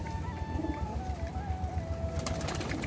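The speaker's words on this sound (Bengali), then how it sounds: "চলো খেতে দিয়ে দিলাম পায়রাগুলোকে, সব এসে এবার পায়রাগুলো খেতে চলে আসলো সব এক এক করে।" Soft pigeon coos sit under a steady low rumble, with a brief flutter or rustle near the end.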